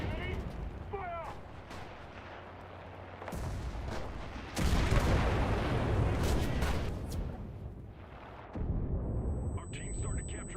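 Video game artillery fires with heavy booming blasts, long rumbling bursts that come in waves and switch abruptly from one to the next, loud and close, with brief voice sounds early on.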